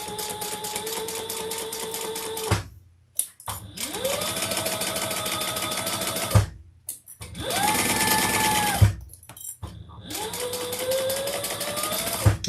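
A sewing machine stitches fabric pieces with foam interfacing in loud, close bursts of rapid mechanical whirring, each run revving up and stopping, with short pauses between.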